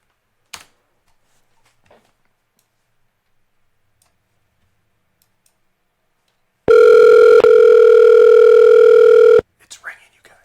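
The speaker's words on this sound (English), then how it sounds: "It's ringing, you guys." A phone call rings out: one loud, steady electronic ringback tone lasts about three seconds after a quiet stretch with a few soft ticks, followed by faint clicks.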